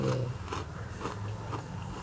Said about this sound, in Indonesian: Langsung kita habek nih pangsit gorengnya